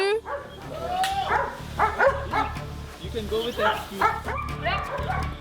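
A dog barks and yips repeatedly up close during a police search in a red-light district, with excited whimpering between barks while people talk over it.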